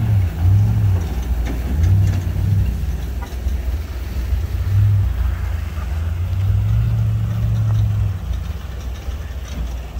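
A few cars cruise past with a low, rumbling engine drone that swells and fades over several seconds, the steady idle-like growl sitting close and fairly loud without any talk.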